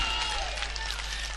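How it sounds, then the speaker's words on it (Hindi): Audience applause for poet Javed Ali Ashtvi at a mushaira in Ashta, Sehore, a steady wash of clapping from a crowd over a low hum, lasting only a moment. "एक बार तालियां बजा के जावेद भाई को बताएं कि आप सुन रहे हैं।"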